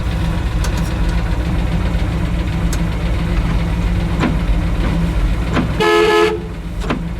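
Horn of a 1967 Chevrolet Impala SS convertible gives one short, loud honk near the end, over the steady rumble of the idling engine and some light clatter nearby.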